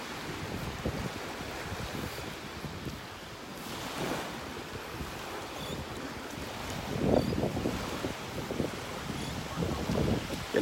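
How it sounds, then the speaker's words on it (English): Strong wind buffets a beach in North Naples, Florida, roaring steadily across the whole stretch with surf washing underneath and a louder gust near the end. "Ooh, that wind is something here."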